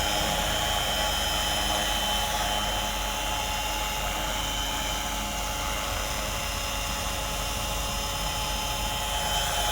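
A remote-controlled model helicopter hovers nearby with a continuous, loud high-pitched whine and rotor buzz that holds steady throughout, with no voices.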